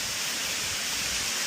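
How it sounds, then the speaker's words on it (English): A large cascading waterfall in a rock garden, with tree branches around it, heard as a steady, dense, hissing rush of falling water filling the whole short stretch without talk. "a much larger cascading waterfall with these tree branches"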